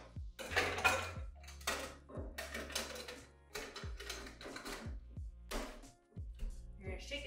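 A frozen cocktail shaker holding brandy, triple sec orange liqueur and lemon juice is shaken hard, making loud, rhythmic rattling bursts of metallic clatter that repeat steadily, with a brief pause near the end.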